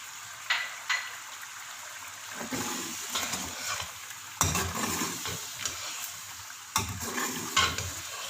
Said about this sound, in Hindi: अब हम इसमें ऐड करेंगे दही। इसको मैंने खूब अच्छे से फेंट लिया है। इसको हाई फ्लेम पे हम भून लेंगे।